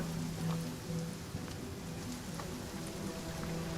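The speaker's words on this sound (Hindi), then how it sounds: "इसमें में बारिश क्यों हो रही है?" Steady rain in the video game Divinity Original Sin, a continuous dense hiss of falling drops that stays even and unbroken for the whole stretch, with no voices over it.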